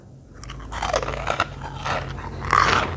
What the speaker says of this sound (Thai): ยายกินจัดตำบักฮุ้งมือนี่ กับไข่ต้ม กับไอ้ แคบหมู